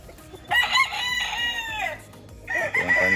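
A sweater gamefowl broodcock rooster on a gamefarm crows loudly and close by, two long strained calls with a short break between them, with faint background clucking and farm noise.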